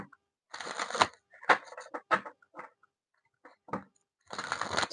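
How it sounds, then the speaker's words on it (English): Tarot cards being shuffled by hand, with quick riffling and rustling bursts coming in short separate bouts, close and fairly quiet, no voices over them. "Let's shuffle."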